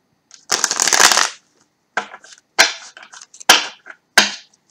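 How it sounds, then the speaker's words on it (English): A deck of tarot cards is shuffled up close, a long riffling burst followed by several shorter crisp shuffles and snaps separated by silence. "One more shuffle, guys."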